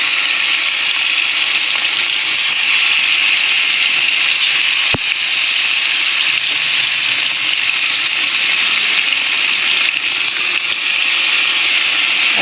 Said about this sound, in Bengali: মাছগুলো এক এক করে আমি ভেজে নেব